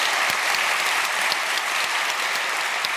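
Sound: audience applause after a lecture

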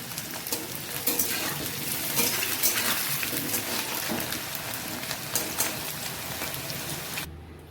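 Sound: potatoes and pointed gourd frying in a pan

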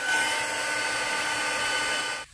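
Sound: heat gun blowing on a papercraft card

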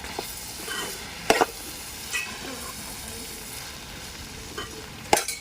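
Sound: stirring coconut, chilli and sesame paste into frying curry

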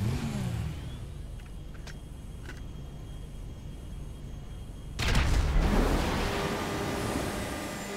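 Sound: Oppressor motorcycle accelerating in video game GTA V Online

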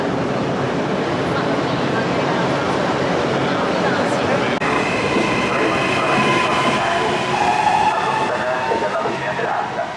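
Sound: train travelling from Riomaggiore to Manarola

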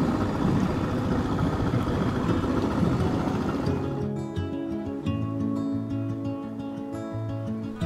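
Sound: sailboat engine starting up and running

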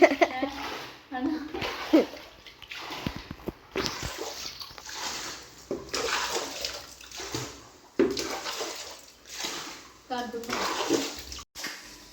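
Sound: water being scooped out of flooded house

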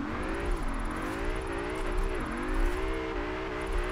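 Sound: car engine revving in Assetto Corsa racing video game

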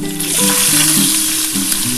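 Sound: chopped onions frying in hot oil

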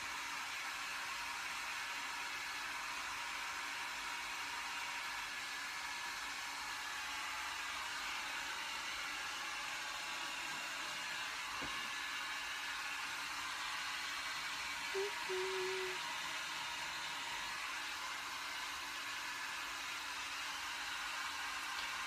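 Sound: hair dryer blowing

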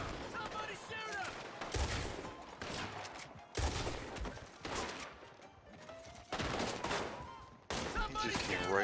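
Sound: gunfire in the video game Red Dead Online

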